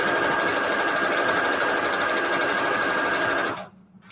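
A sewing machine stitches a quarter-inch seam on string quilt patchwork, a steady, close mechanical whir that runs evenly and then stops just before the end.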